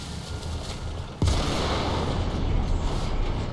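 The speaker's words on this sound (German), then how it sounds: "Dann nochmal einen Schuss in die Seite und weg ist er." A tank cannon shot in the War Thunder video game, heard as one sudden loud blast that rolls into a sustained rumbling roar of battle noise, with no speech.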